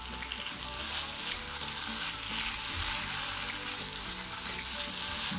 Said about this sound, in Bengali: মিক্স করে নিচ্ছি।